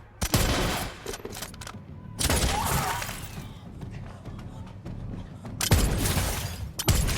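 A film shootout rattles with bursts of gunfire, loud rapid volleys separated by quieter stretches, with crashing impacts and some background shouting between the shots.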